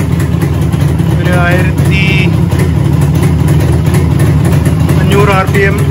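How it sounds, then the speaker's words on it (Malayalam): A car engine idles at about 1500 RPM while a battery is disconnected, a loud steady low rumble running throughout with someone talking over it. "1500 RPM അടുപ്പിച്ചാണ് ഐഡിൽ ഇന്ന്"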